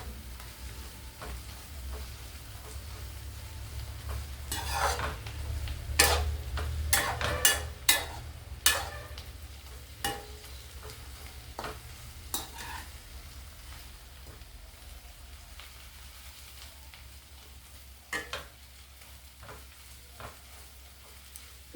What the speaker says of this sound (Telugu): చెయ్యి వదలకుండా మనం వేయించుకోవాలి. చక్కగా వేగాలండి ఇది